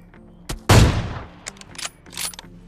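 MK14 rifle fire in the mobile battle royale game BGMI, a loud close shot followed by a few scattered lighter reports over a short span, with no speech.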